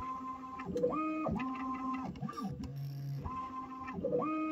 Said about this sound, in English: You can see the machine kind of do its adjustments. It kind of shakes a little bit.